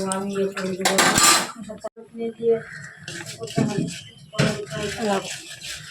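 A spoon scrapes and clanks against a metal cooking pot while vegetable stalks and potatoes are stirred as they boil, in irregular bursts of clattering mixed with talking.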